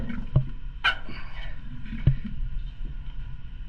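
Rhythmic hand bilge pump strokes on a boat, a few dull thumps and creaks with some splashing water, close by and fairly quiet.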